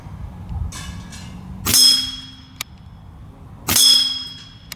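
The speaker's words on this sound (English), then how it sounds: "I'm just gonna keep shooting these out of the gun." An Air Venturi Alpha PCP air rifle pellet strikes a metal target twice, each a sharp ringing clang with a bright lingering tone, spaced about two seconds apart over a quiet background.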